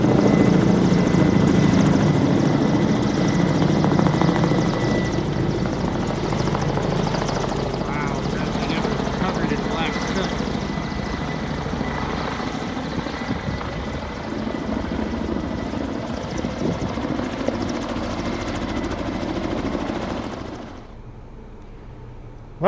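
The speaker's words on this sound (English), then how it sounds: "All I can hear is helicopters right now." Helicopters fly overhead during a wildfire evacuation, their loud, steady rotor thrum sustained for about twenty seconds before it drops away abruptly near the end.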